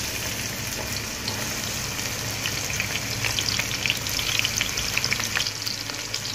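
Chopped onion fries in half a cup of oil in a pot, a close, continuous crackling sizzle with fine popping that grows slightly busier toward the end, no talk over it.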